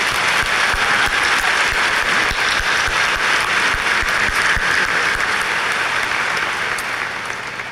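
Sustained, loud applause from a large audience at a high school graduation ceremony, a thick continuous clatter of hands that tapers off near the end.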